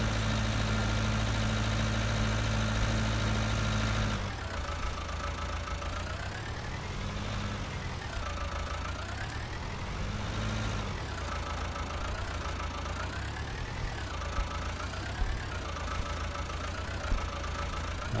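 A tractor pulling a plough in Farming Simulator 19 drones steadily, a low hum that shifts early on, then rises and falls in repeated waves as the revs change, heard alone with no voices.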